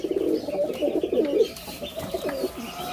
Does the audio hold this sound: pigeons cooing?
yes